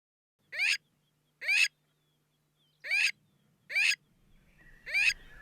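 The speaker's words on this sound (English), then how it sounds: "550 species of birds filling the air, the acacia trees." Five loud, evenly spaced bird calls ring out over quiet open savanna with acacia trees in the Masai Mara, each a short descending burst, with a faint low hum and rustle underneath.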